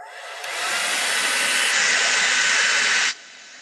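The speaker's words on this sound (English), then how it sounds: "Sorry, I got the hair dryer going." A hair dryer blows steadily for about three seconds while drying freshly painted fishing lures, a loud broadband whoosh that starts abruptly, shifts slightly in pitch midway, and cuts off sharply, with no talking.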